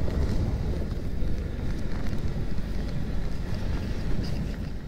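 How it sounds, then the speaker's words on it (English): Riding in a Skimmer tracked vehicle over rough, bumpy terrain: a steady loud rumbling drone with wind buffeting the microphone, continuous throughout with no voices. "So this is what it's like to ride in the Skimmer."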